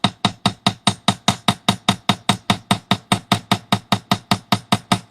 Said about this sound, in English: I'm going to go in with my actual riveting hammer and start knocking it down a little bit more